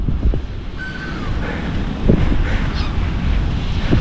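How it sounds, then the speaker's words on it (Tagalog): Heavy wind buffets the microphone over a constant roar of surf at a beach in Dubai, loud and close, with faint seagull calls in the mix. "grabe lakas ng alon, kaya pala mahangin eh"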